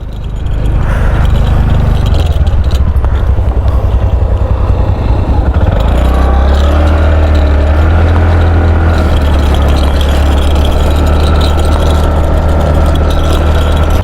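A motorbike engine fires up and revs loudly at close range to begin a ride through the Purulia countryside, settling into a throaty, pulsing drone with shifts in pitch as it gets moving.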